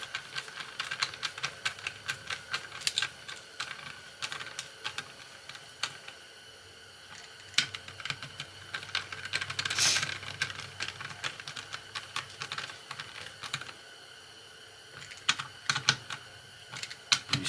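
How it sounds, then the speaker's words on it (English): Rapid, uneven clicking from the threads of a Husqvarna 50 chainsaw part catching and lining up as it turns, close and fairly quiet, with no talking. "That click. That's your threads lining up."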